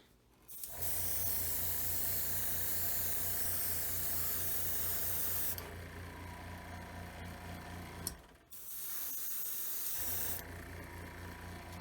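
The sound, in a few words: airbrush spraying black paint onto a model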